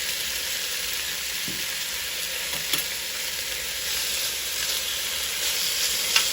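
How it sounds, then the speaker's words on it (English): Venison chunks sear in a hot pan for stew, giving a steady, close sizzle and hiss of frying meat with a few faint clicks of stirring throughout. "You want to sear your meat first."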